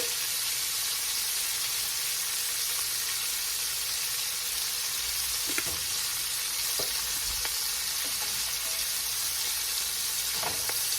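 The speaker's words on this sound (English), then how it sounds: "I'm just going to let these onions cook up." Onions seasoned with salt, pepper and garlic powder fry in a skillet with a steady, dense, hissing sizzle, close and continuous, with a few faint taps of a utensil and no voices.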